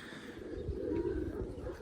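Pigeons cooing softly in a loft, low rolling coos repeating faintly over a quiet background, with no talking.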